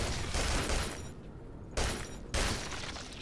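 Gunfire at rats in Duke Nukem Forever sounds as loud, harsh blasts, with a long burst, a short pause, then two more sharp shots, close and alone with no voices.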